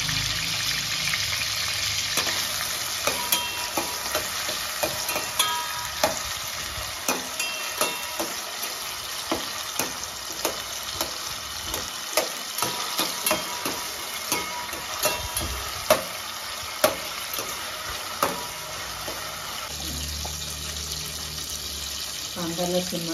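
Tomatoes with a little salt cooking in a pan for a home-made mutton dish, giving a continuous close sizzle with scattered sharp clicks and stirring knocks throughout.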